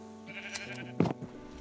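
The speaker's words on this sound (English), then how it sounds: "I'll shear these sheep and time lapse it out." Sheep in the Adventurecraft video game, heard as a couple of short, clear bleats with soft clicks between them, moderately close, and no speech.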